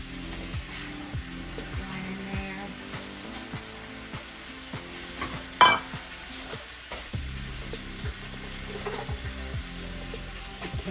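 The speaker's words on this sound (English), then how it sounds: "while I saute the vegetables, which will include the onion and sweet pepper." Onion and sweet pepper sauté in a pan with a steady, quiet sizzle, punctuated by scraping stirs and one sharp clatter midway.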